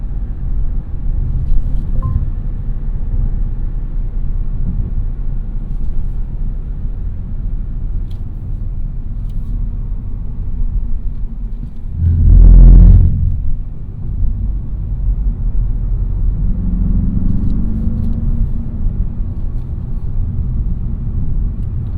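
A 2021 Mazda 3 Turbo hatchback cruising a scenic Kentucky country road, its steady low road and engine rumble filling the cabin with one brief louder thump midway.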